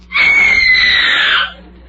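A woman screams on request as a professional radio screamer, one long, loud, sustained shriek lasting over a second, close and alone before cutting off.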